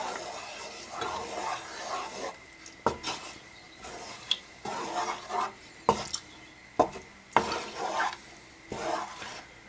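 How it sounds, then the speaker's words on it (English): A spoon stirs a pot of rajma curry, with scraping swirls and sharp knocks of the utensil against the pot repeating at irregular intervals, close and fairly quiet, without talk. "And we're gonna give it a good stir."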